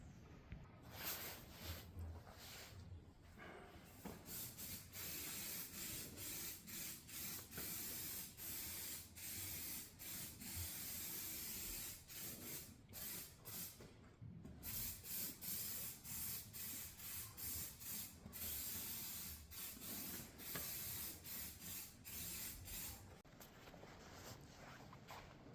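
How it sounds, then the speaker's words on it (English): Zinc primer sprays from an aerosol can onto an old steel frame being refabricated, a close hissing spray in repeated bursts of a second or two with brief gaps, continuing steadily for about twenty-five seconds. "So that's it sprayed up."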